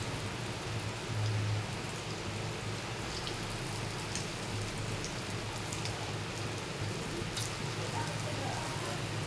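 Small fritters of biuli (urad) dal paste sizzle steadily in hot oil over a low gas flame, a continuous soft, even crackle with no break and no talk.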